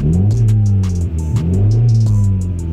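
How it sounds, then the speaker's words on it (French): A steady, loud engine drone from a Honda Civic fitted with an SRS G55 exhaust silencer, heard from inside the cabin, with slight shifts in pitch and no talking. "ça c'est le son que tu entends quand tu es à l'intérieur de la bagnole"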